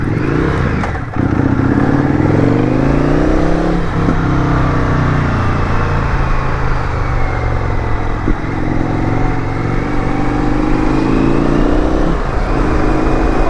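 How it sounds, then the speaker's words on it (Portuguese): A Triumph-style FTR x RSD Super Hooligan motorcycle engine hums steadily while riding, pitch rising and falling as it accelerates and shifts, loud and close with rattling over rough cobblestone ground. "Que moto suave, meu, fogo."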